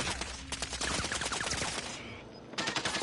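Rapid automatic gunfire in Call of Duty Modern Warfare rattles in dense bursts, with a brief pause before another close volley, loud and continuous across the moment.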